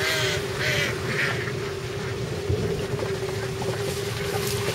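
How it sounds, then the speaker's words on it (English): Ducks quack in a few short calls over a steady mechanical hum and splashing water from a water-ram-pump-powered water wheel boat in a tank in Elgin, Texas. "Little ducks better get out of the way."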